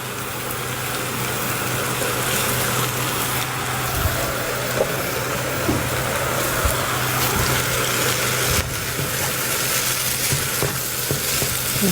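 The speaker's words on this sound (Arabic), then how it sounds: "خاصني نحرك سينيك شويه بشويه" Food stirred as it fries in a tray, a steady loud sizzle with scraping stir strokes running throughout, no voices.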